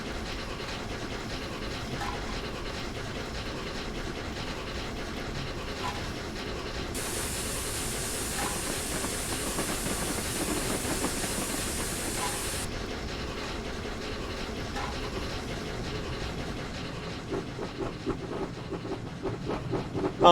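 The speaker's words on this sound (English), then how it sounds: "at least they have the Steam Sound Supreme clatter sound on the coaches" Flying Scotsman steam locomotive hauling coaches in Train Simulator Classic, giving a steady rolling rumble with coach clatter and a brighter hissing stretch in the middle, continuous and moderately loud throughout.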